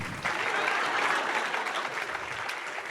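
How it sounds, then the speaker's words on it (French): Audience applause fills a masterclass hall at the Cannes festival in 2022, a dense, steady clapping from a large crowd that carries loudly and evenly for the whole stretch, with no speech over it. "Merci de m'applaudir comme ça."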